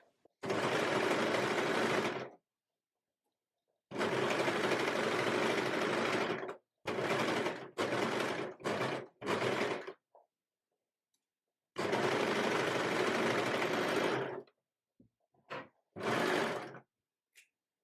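A sewing machine stitches around the armhole of a wide-leg jumpsuit, running in several bursts: two long steady runs, then short stop-start stretches, close up, with no talking.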